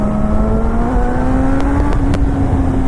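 A Suzuki GSX-S1000 superbike accelerates hard in second gear toward 5000 rpm on a night ride through Hyderabad streets. The loud, close engine note rises steadily in pitch for the whole stretch, with no talking.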